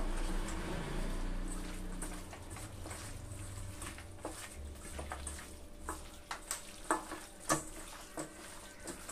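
Mutton pieces are worked by hand with mustard oil and spices, making quiet wet squelches and pats that grow more frequent and distinct toward the end.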